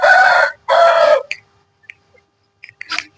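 A country rooster, one of the fighting cocks raised for sale, crows loudly and close by in a two-part call with no talk. A few faint clucks and chirps follow in near silence.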